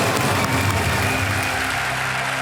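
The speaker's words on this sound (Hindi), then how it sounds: "तालियां बज जाएं उनके लिए" A television quiz show studio audience claps in a short, steady burst of loud applause that fills the room.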